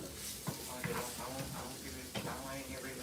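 Onions fry in a pan with a continuous close sizzle, punctuated by a few soft stirring knocks and scrapes.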